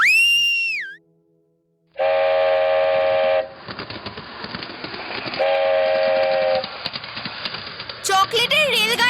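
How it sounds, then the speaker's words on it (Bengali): A toy train on chocolate rails runs with a chugging rumble and gives a sustained whistle, then whistles again, with voices and a sharp tone at the start and rising tones at the end. "আর এই চকলেট রেল লাইনের ওপর চকলেটের রেলগাড়িও চলে।"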